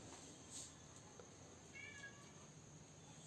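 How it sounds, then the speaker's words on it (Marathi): Pet cat in a Konkani home giving a couple of faint, short meows, the first near the start and another a little later, over quiet room background. "तुमच्याकडे मांजर आहे,"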